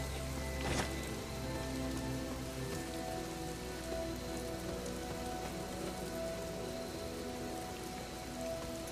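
Steady rain patters on surfaces in a video game scene from Marvel's Midnight Suns, a dense continuous wash with game music tones beneath and one brief sharper splash early on, no voices.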